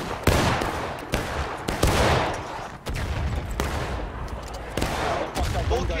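Musket volleys in the Civil War game War of Rights: repeated loud, sharp gunshots crack at close range among scattered distant firing and booming echoes.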